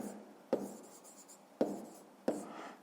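Pen writing on paper during a fifth-grade maths exercise, three short scratchy bursts at steady intervals, close and quiet, with no voices.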